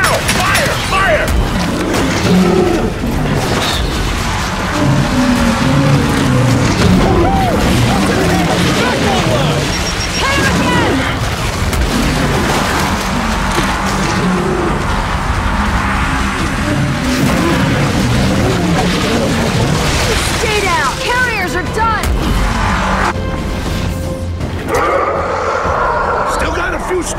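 A big weapon fires in Gears 5 amid explosions, heard as a dense, continuous roar of blasts and rumbling mixed with game music and shouting voices throughout.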